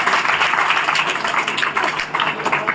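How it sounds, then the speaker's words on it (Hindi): Applause from an audience at an Independence Day school function, a steady dense patter of many hands clapping at close range, with no break. "जोरदार तालियों से उनका एक बार स्वागत करें।"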